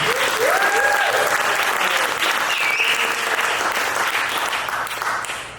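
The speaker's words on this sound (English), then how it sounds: "So give yourself a round of applause." A live comedy audience applauds in a loud, dense burst of many clapping hands with a few whoops and cheers early on, holding strong before slowly tapering toward the end.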